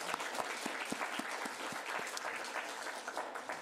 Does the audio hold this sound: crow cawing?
no